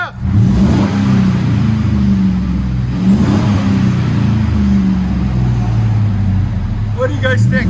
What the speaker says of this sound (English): Go ahead, give it gas.